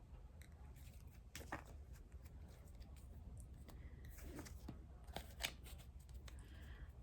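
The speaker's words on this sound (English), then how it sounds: "This is a ginormous deck to shuffle." Soft, close handling of a large deck of tea leaf cards: papery riffles and snaps in irregular bursts, quiet and crisp against a faint background hum.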